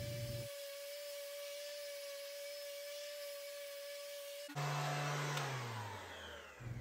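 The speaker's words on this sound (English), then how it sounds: "An orbital sander makes quick work" An orbital sander with 80-grit paper works rough pallet wood for a picture frame, a steady mechanical drone that runs alone for several seconds before cutting out and giving way to a different, brighter whir.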